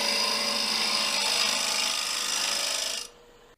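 Steady, loud scraping roar of a wood lathe gouge hogging off a koa crotch bowl blank, continuous rasping for about three seconds before the cut stops abruptly and the sound drops away.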